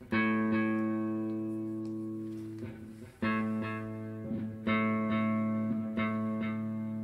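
Electric guitar riff with ringing sustained notes, a repeating picked figure over a droning chord, moderately loud with some reverb.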